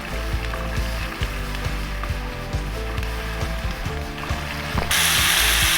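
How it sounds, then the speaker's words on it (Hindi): Onions frying in a pan for a pumpkin chana dal, giving a steady close sizzle with light clicking and scraping, then a brighter, louder hiss near the end. "प्याज को बस थोड़ा सा फ्राई करें, इसके कच्चेपन को ही ख़त्म करना है।"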